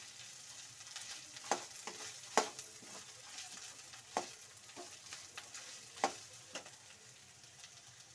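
Green beans stir-frying in a pan, a low steady sizzle broken by several sharp scraping and tossing clatters of the spatula at irregular intervals, close and moderately loud with no talking.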